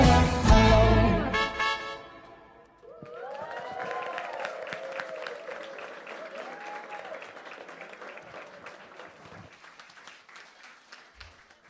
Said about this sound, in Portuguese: Mais uma salva de palmas para as crianças